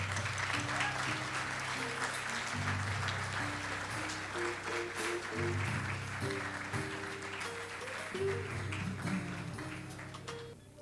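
Applause for award recipients at the 2013 Torch Awards ceremony, a sustained crowd clapping over about ten seconds with steady musical tones playing underneath, fading slightly at the end.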